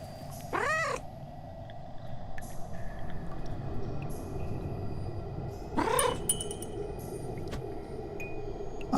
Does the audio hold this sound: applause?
no